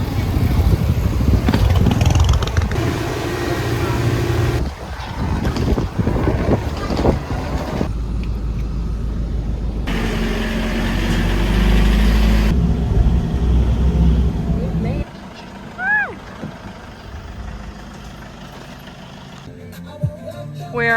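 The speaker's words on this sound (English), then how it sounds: "We're on these like trike bikes is what they call it, I think." Motorized trike ride on the island of Boracay, Philippines: a steady engine drone with heavy wind buffeting the microphone throughout, near and loud, with a brief voice and a higher whine late in the ride.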